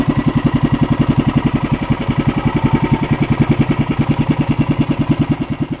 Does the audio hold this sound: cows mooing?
no